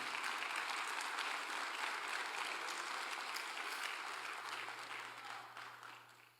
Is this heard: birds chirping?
no